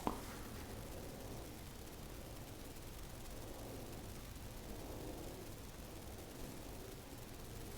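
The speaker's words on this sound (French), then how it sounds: "Quand on se met dans le couloir, on entend bien que c'est le vent." Steady broadband rushing wind fills a corridor, a continuous hollow whoosh with gentle swells and no voices.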